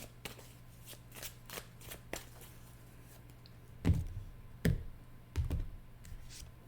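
Oracle cards being shuffled and drawn: a run of soft rapid flicks, then several heavier slaps and thumps as cards are laid down, close and fairly quiet with no talking.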